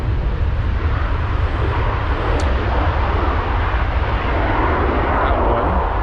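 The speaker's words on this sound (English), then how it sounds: "Oh, plane." An airplane coming in to land roars steadily and loudly overhead with a broad, continuous engine rumble that holds for the whole stretch.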